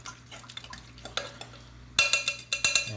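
A simple fork stirs through already-mixed carbonara sauce, scraping and clinking against the bowl in quick, irregular strokes that grow louder toward the end, with no talking over it.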